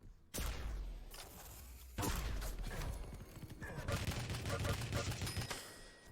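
Heavy machine gun fire in Quake on the Blood Covenant map during a competitive duel, a rapid stream of shots running for several seconds after a sharp opening burst, with game effects and a commentator talking over it.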